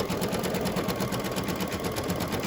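An embroidery sewing machine loaded with gold thread stitches down fabric on a St. Patrick's Day coaster, giving a steady, rapid mechanical chatter that runs close and even throughout.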